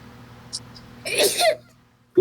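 A single loud sneeze bursts out close by, a short inhale followed by an explosive breathy blast, then quiet.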